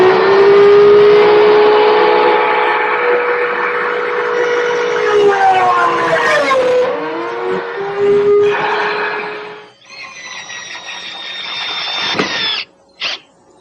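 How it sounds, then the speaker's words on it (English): A loud, close power tool cuts pocket screw slots in wood, giving a sustained high whine whose pitch sags and recovers under load, then stops, followed by short final bursts. "So we'll cut the slots first."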